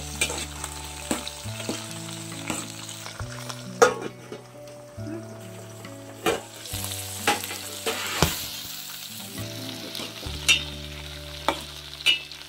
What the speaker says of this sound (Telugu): ఇందులోనే టేస్ట్ కోసం కొంచెం పల్లీలు వేసుకొని వేయించుకున్నాం